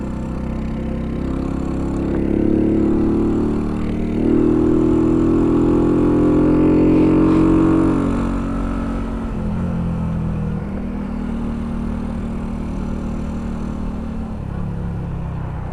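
A small 50cc-class motorcycle engine working hard uphill on a ramp, a steady mid-pitched drone that swells and revs higher before easing off, heard continuously at close range.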